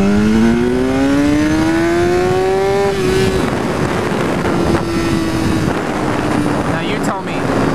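A 2014 BMW S1000R motorcycle pulls from 2,000 RPM to full throttle, its engine note climbing steeply and loudly for about three seconds before levelling into a sustained high drone under heavy wind roar.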